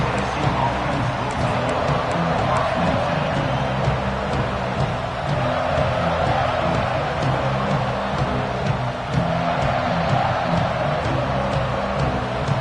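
Broad, steady rumble of a packed college football stadium crowd, a loud continuous wash of voices and noise holding level for the whole stretch without a distinct peak.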